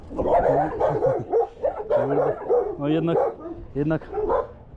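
Small dogs bark and yip repeatedly up close on a street in Lima, Peru, sharp overlapping barks with a brief spoken word among them.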